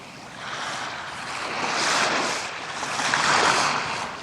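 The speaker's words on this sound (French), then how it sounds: "Cela ressemble au bruit de la cascade, comme si elle venait vers nous." Rushing roar of a wall of floodwater carrying torn-out tree trunks, a broad waterfall-like surge swelling gradually louder and nearer, continuous with no voices.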